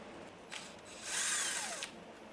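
Electric screwdriver or drill unscrewing screws from a Marshall Woburn Bluetooth speaker being opened for repair, a brief whirr near the start, then a longer close, steady whining run of about a second.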